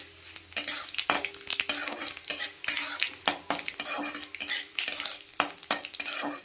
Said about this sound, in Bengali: বিউলির ডাল ফোড়ন দিচ্ছি এখানে হচ্ছে গিয়ে তেজপাতা শুকনো লঙ্কা মৌরি দিয়েছি